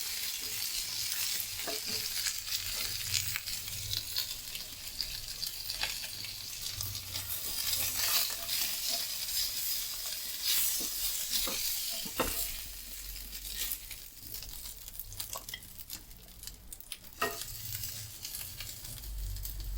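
Pieces of chicken for kanthari chicken pollichathu fry in a pan with a steady, close crackling sizzle, punctuated by sharp spatters and occasional stirring clatter, with no talking.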